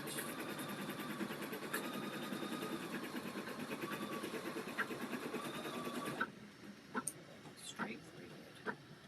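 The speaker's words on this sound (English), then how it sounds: "I'm going to let it do the tack down stitch and then cut it." An embroidery machine runs a tack down stitch with a fast, even mechanical chatter, then stops, leaving a few faint clicks and handling sounds nearby.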